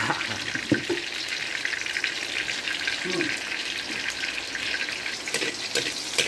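Chopped garlic fries in a pan until golden, a steady hiss and sizzle with occasional scrape of a utensil, heard beneath a speaking voice in a home kitchen.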